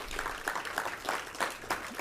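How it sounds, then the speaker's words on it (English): A small audience at an educational forum gives a brief round of applause for a parent engagement committee, with faint, distant clapping in uneven bursts. "And give them a round of applause."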